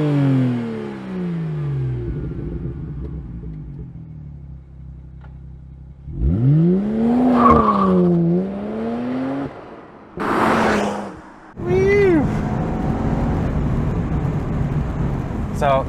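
A BMW 1M twin-turbo car driven hard on back roads, its engine revving and surging loudly from near the microphone with rising and falling pitch sweeps, broken by brief quieter gaps between pulls.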